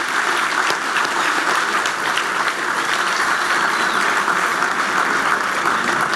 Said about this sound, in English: Gentlemen, how about a round of applause?